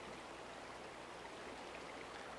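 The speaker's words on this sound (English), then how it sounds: "in the swift water." Swift river water rushes past rocks at a shoal on the Flint River, a steady broadband roar of current that stays close and even throughout with no voices over it.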